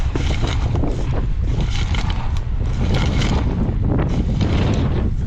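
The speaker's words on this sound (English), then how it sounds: "I hope that wind's not messing with the camera too bad. It is whipping out here." Strong, cold wind whipping across a camera microphone outdoors, a loud, continuous roaring buffet with gusty surges and no pause, and no one speaks.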